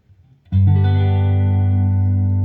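A 1989 Fender HM Strat electric guitar playing a crunchy, distorted chord that strikes sharply after a short quiet lead-in, then rings out loud and sustained, alone without talk.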